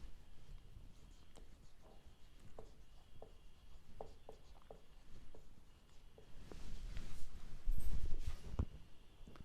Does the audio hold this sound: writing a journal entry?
yes